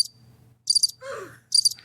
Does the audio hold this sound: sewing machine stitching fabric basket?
no